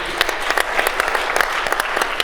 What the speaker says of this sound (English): Can we give him another round of applause, by the way, on that system?